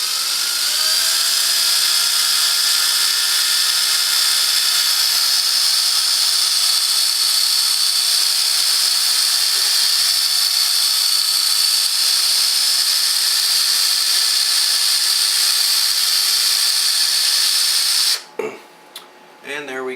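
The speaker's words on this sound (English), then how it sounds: "Now I will use the drill and my paint mixer to stir it" A power drill with a paint mixer attachment, run at reduced RPM, whines steadily while stirring elderberry wine for a long stretch, then cuts off abruptly near the end with a few clunks.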